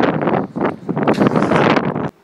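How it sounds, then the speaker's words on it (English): Wind buffets the microphone in heavy, rumbling gusts that surge and fade unevenly, loud and close, ending with a sudden cutoff. "It's so bloody windy."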